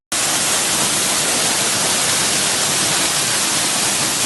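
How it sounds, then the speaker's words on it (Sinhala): Water rushing down a waterfall makes a loud, steady, unbroken roar that starts abruptly and fills the whole stretch with no voices. "දියැලක වතුර පහරක හඬ ඇහෙන්නේ ගැටීමක් මත"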